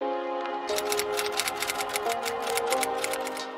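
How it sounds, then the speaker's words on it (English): A typewriter in Lagos clatters with rapid, irregular keystrokes close up, a continuous burst of sharp mechanical clicks with no voices. "This piece of machine called the typewriter isn't dead"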